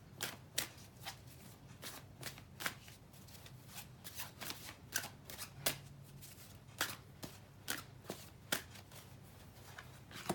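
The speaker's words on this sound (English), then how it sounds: "Okay, so we're going to shuffle these ones." Tarot cards are shuffled over and over, a rapid sequence of crisp riffling snaps and flicks, close and fairly quiet.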